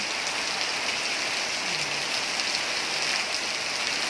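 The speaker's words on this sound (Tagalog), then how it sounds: "Ulan-ulan lang, Lord ba?" Steady rain falling, a dense even hiss of drops spread across the whole clip with no voices.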